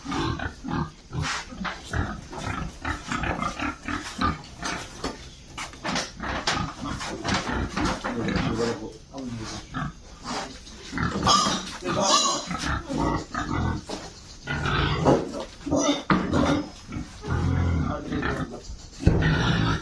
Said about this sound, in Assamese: টিমটো কেনেকৈ গাহৰি ধৰি পেলাই লৈ যায়